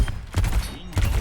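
Gunfire in the video game Overwatch 2, a few quick punchy shots in close succession with thumping low impacts, heard alone.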